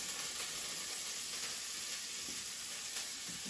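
Broccoli sizzles steadily as it is stir-fried in a hot pan, a continuous close hiss with occasional faint stirring scrapes and no talk.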